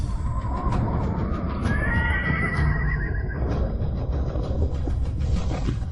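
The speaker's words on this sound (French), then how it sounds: "Les chevaux de guerre sont tous là." War horses whinny in a rising, drawn-out neigh over a dense, steady rumble of many hooves and movement, loud and continuous throughout.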